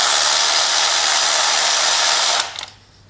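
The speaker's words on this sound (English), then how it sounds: "get a 10mm socket, remove that screw, and then pull the coil out" Power tool whirring steadily at close range while backing out a screw on the ignition coil of a Kia 2.4L GDI engine, then cutting off abruptly followed by faint clicks and quiet.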